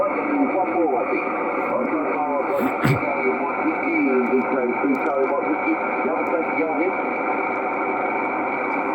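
An Icom IC-751A transceiver carries a noisy band: a steady hiss and hum with warbling, garbled radio voices and interference running continuously, with a brief crackle burst partway through.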